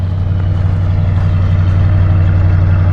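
A 1950s Lincoln with original single exhaust idles close by, a loud, steady deep rumble with an even low throb that holds unchanged throughout, alone with no voices.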